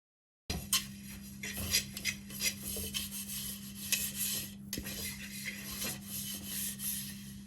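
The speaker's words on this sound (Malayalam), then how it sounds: "നമുക്ക് ഈ ചട്ടിയും ഇതുപോലെ തന്നെ വെളിച്ചെണ്ണ തേച്ച് എടുക്കാം" Coconut oil being rubbed by hand onto a clay curry pot (manchatti) gives close, rasping strokes in an irregular rhythm over a steady low hum, with no talking.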